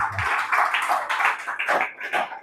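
Several quick hand claps in a classroom, sharp and close, coming in a loose irregular burst over a couple of seconds with no talking.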